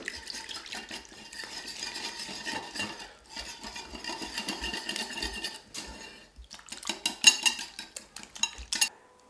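Batter of leftover flour, fish seasoning and water being stirred in a bowl to coat tortillas, with a run of soft scraping and clinking of a utensil against the dish, irregular and close, briefly pausing midway.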